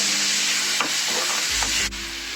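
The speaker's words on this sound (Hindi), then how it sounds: "छोटा टमाटर है, उसका पीस डाल दिया है और इसको थोड़ा सा भून लेते हैं।" Small tomato pieces fry in a hot pan for an egg biryani, giving a steady close sizzle with a few soft scraping stirs and a brief clatter near the end.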